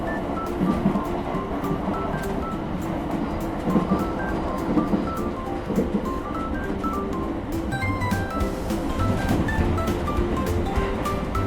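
Odakyu 4000 series electric train passing a railway crossing, with the crossing bell ringing in a steady repeating rhythm over the rolling rumble of the train.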